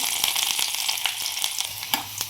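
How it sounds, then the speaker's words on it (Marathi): Finely chopped garlic fries in hot oil for a tempering, a loud, close crackling sizzle with bursts of popping and a few stirring knocks against the pan. "इकडे तेल टाकलेलं आहे, याच्यामध्येच लसणाची फोडणी द्यायची"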